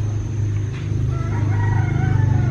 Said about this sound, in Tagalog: Dami din pala manok dito